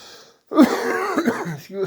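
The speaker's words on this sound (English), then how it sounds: "Excuse me, we still have a bit of a cough." A single throaty cough or throat clearing bursts out close to the microphone after a brief silence, followed by a short trailing rasp.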